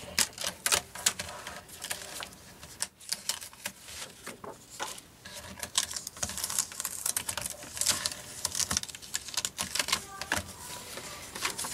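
An electronic cutting machine slicing paper, giving a busy stream of rapid ticking and tapping clicks in uneven bursts, close up and fairly quiet, with no talking.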